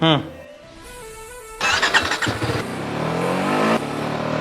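A motorbike engine cranks and catches, then revs up in rising bursts and settles into a steady loud drone, with a voice talking over the start.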